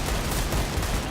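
Dense burst of rapid gunfire in a battle royale shooter game, loud and steady with overlapping shots throughout.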